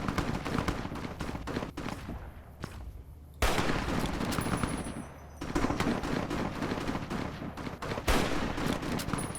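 Video-game firefight in Fallout: New Vegas, with rapid bursts of machine-gun and rifle fire crackling in loud clusters and brief pauses between volleys.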